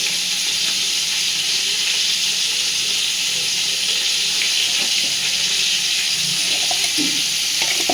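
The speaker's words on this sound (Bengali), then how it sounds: "এইবার খুব ভালোভাবে মশলাটাকে ফাটিয়ে নিচ্ছে" Spice paste with turmeric sizzles steadily in a hot pan, a dense continuous frying hiss with occasional soft stirring scrapes and no talk.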